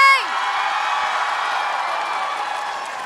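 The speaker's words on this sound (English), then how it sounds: "we have another round of applause for 10 years of streaming for Hermitcraft SMP" Applause and cheering from a large audience at a TwitchCon 2024 San Diego convention panel fill the room for three seconds, loud, steady and dense with scattered whoops.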